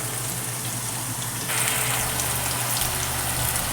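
Brinjal curry sautéing in a pan over a medium flame, a steady close hiss and sizzle of frying that grows slightly louder partway through, with no voices.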